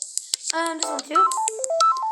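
A short Samsung Galaxy A03 ringtone phrase of electronic tones, with a few quick blips and then a stepping melody of steady synthetic beeps, loud and up close.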